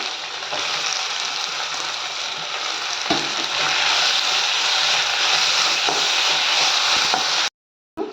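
Tomato sizzles steadily in a hot pan with spinach dal, a dense continuous frying hiss with occasional soft stirring knocks, close and loud, cutting out briefly near the end.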